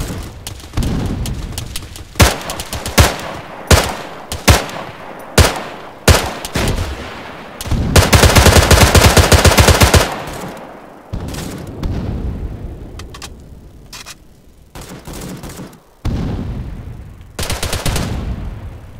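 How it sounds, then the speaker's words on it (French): Arma 3 battle with repeated loud gunshots and bursts of automatic fire, then a dense sustained barrage with heavy booms from grenade launchers, tapering into scattered shots and a final rattle. "Ok, c'est bon, arrêtez les tirs."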